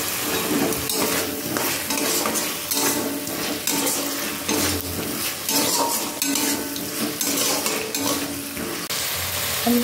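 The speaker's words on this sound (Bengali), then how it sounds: "আলুটা দিয়ে একটু কষিয়ে নেব" Boiled potatoes being sautéed in a cooked spice paste in a pan, with steady loud stirring and scraping of a utensil against the pot over continuous frying noise, no voices.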